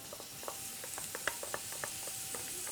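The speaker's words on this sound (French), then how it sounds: "nous allons commencer par faire revenir l'oignon dans un peu d'huile d'olive" Onion sautéing gently in a little olive oil, a quiet steady sizzle broken by light scattered clicks and scrapes of stirring.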